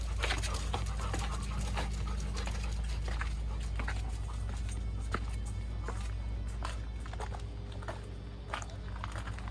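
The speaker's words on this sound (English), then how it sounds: "Or a guy and a couple of panting dogs." Dogs pant rapidly and continuously nearby, with light footsteps and shuffling mixed in.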